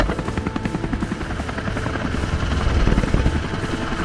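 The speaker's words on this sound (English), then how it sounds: "The helicopter glides low over a not yet harvested field near the village" A helicopter flies low over an unharvested grain field near a village, its rotor beating in a loud, steady, close drone that swells slightly toward the middle and continues throughout.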